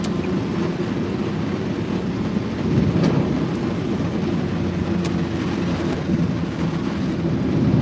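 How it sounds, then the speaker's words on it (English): Steady rain pours down with a low, continuous thunder rumble, dense and enveloping, swelling slightly in places, with no voices. "See, we got, it's starting to rain."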